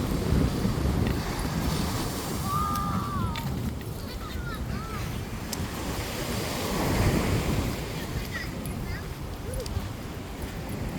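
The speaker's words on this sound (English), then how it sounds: "This is the Waikiki beach right here" Ocean waves wash ashore at Waikiki Beach in Honolulu, Hawaii, a continuous rushing surf with wind noise on the microphone, with faint voices and distant bird calls in the background.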